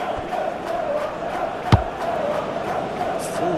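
Stadium crowd in a football video game, a steady broad roar that holds throughout with a sharp thump near the middle, no talk over it.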